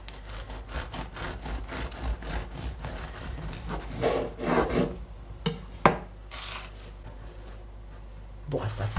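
A knife saws into a loaf of buckwheat wholemeal bread with close, repeated rasping strokes, soft and fairly quiet, and a voice speaks at times over the cutting.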